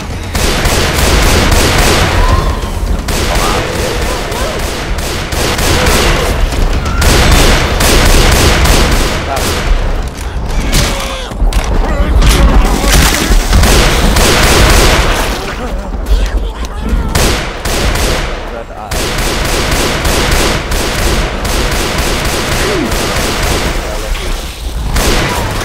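Dense, loud gunfire fills the Left 4 Dead firefight as weapons loaded with incendiary ammo fire nearly nonstop with booming bursts, and voices talk over the shooting.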